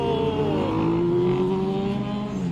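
Superbikes ride past on a road during a group Sunday ride, engines droning and revving loudly with a shifting pitch as they pass close by.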